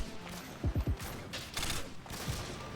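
Burst assault rifle in Modern Warfare 2 on IW4X, firing a quick three-round burst of sharp gunshots, then a single fainter shot after a pause, over low game background noise.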